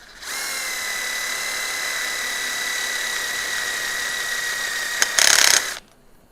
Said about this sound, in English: Are those the new drill bits you just reviewed? No, these are not. These are just some Harbor Freight ones.